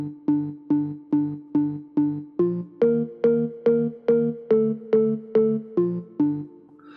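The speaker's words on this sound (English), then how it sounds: "the first layer is an organ bass, which sounds like this" Organ bass layer drenched in reverb, playing a steady pulsing run of short repeated notes that shift pitch midway, loud and alone.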